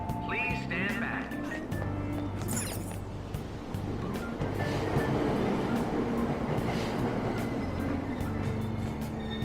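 A subway train in the video game Persona 5 pulling away from a station platform, a loud steady rolling rumble with clicks and a brief high squeal, chimes and announcement tones sounding early on.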